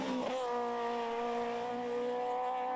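A Citroen C2 R2 rally car on a forest stage of the Cork 20 Rally, its engine holding a steady, loud high-revving note close by, with a brief sharp burst near the start.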